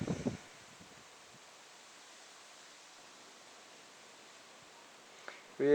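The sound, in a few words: strong gusty wind during a thunderstorm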